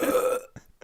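A single loud, close burp lasts about half a second, followed by a few faint short vocal sounds.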